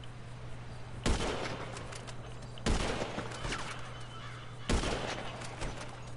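Three sharp gunshot bursts ring out in a video game at roughly even intervals over a steady hum, each with a short reverberant tail, and a voice talks faintly between them.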